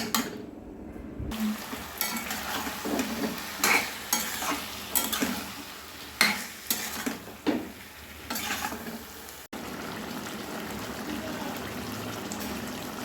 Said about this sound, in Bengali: গ্যাসের ফ্লেম মিডিয়ামে রেখে, হাই টু মিডিয়ামে রেখে আমি 7-8 মিনিট মতো কষে নেব।